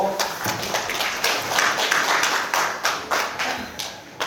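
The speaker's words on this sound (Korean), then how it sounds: "두 번 박수로 맞아주십시오." A seminar audience at an academic philosophy meeting claps to welcome a presenting professor, a brisk run of distinct, fairly loud claps in a steady rhythm, with a little murmuring beneath.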